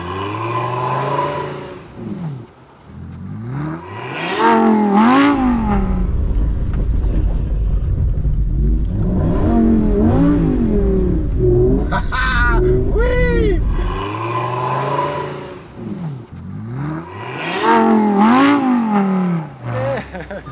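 Lamborghini Huracán Sterrato engine revving hard during a J-turn, rising and falling surges with a low rumble, heard up close under a voice talking over it.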